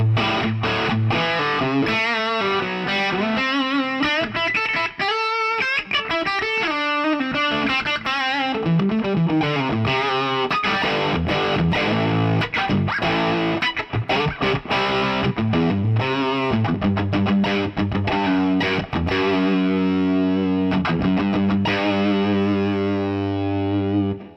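A loud, heavily distorted electric guitar through a Marshall amp plays continuous chords and riffs with a thick, saturated amp tone and some reverb.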